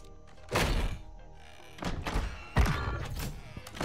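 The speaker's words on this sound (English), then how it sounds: "He's throwing stuns." Stun grenades land and go off during a 2v2 Search and Destroy match in Call of Duty MW3, giving three separate heavy thunks with broad bursts, the last one loudest and sharpest.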